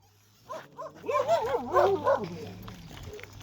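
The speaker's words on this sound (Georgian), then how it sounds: "აქ ძაღლები არიან არ წახვიდეთ" Small dogs nearby bark and yip in a short, excited burst with whimpering pitch glides, while people talk close by.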